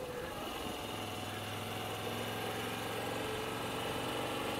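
A Moto Guzzi V85TT motorcycle engine idles at a steady, even rumble with a faint mechanical buzz, close and continuous throughout, with no voices.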